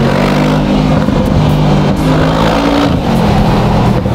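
Mercedes G-Wagon in sport mode revving hard, a loud, close, growling engine note that rises and dips in pitch across several short pulls, with no speech.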